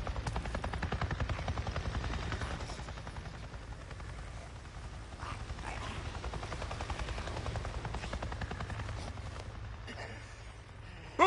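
A helicopter in the video game Days Gone thrums overhead with a steady, rapid rotor chop, loud at first, easing slightly, then building again, alongside faint distant crackles and game sounds.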